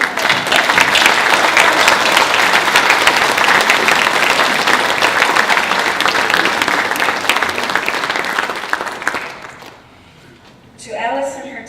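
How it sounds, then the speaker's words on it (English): An audience at a book launch in Brisbane claps loudly and steadily, the applause slowly tapering off near the end before a voice begins speaking. "give you the applause that you deserve"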